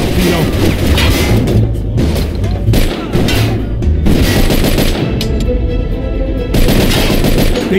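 Gunfire in the Mafia II video game: loud, repeated shots and bursts packed tightly together across the whole stretch, thick and continuous with brief gaps, with voices underneath.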